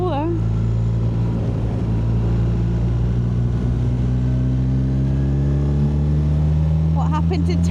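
A BMW R1300 GSA motorcycle accelerates hard on a European road trip, its engine note climbing steadily through the gears, loud and close, with a voice talking briefly at the end.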